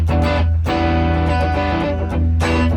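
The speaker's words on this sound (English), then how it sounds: "That's a very, very smooth distortion there." Electric guitar through a smooth distortion effect, sustained chords with strong attacks struck a few times over roughly three seconds, loud and close, no talking.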